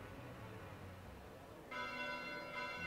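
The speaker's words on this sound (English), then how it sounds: "Bells? This late at night?" A church bell begins tolling at night in Fire Emblem Three Houses, a single resonant ringing strike that enters partway through over a quiet background and hangs on with a sustained tone.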